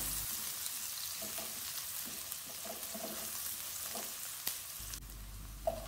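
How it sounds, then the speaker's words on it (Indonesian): Garlic and ginger stir-fry in a hot wok before onions go in, a soft steady sizzle broken by a few stirring clatters and one sharp clink near the end, with no one talking. "bawang putih jahe ditumis dulu sampai harum baru masuk bawang bombaynya"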